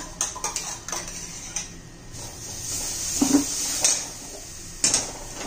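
Mango juice is stirred into grated coconut in a pan on low heat: a spoon clinks and scrapes against the metal in scattered close taps, with a soft wet shuffle between them and no voices.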